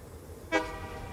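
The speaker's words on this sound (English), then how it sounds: "Honk honk." A vehicle horn in the video game Satisfactory gives a single short toot midway, fairly loud against quiet background.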